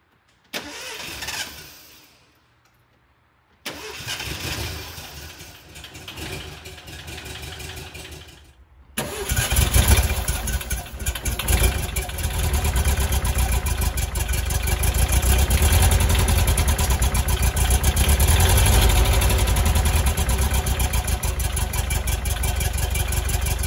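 A Porsche 356C engine cold-starts, cranking and catching after a few quiet starts, then settles into a steady, rumbling idle, close up and loud.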